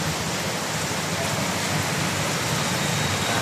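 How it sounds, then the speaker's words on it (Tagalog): Steady, dense sudden downpour of heavy rain at night over a flooding street, a continuous loud hiss filling the whole stretch with no pauses. "Biglang buhos ang ulan ngayong gabi, oh."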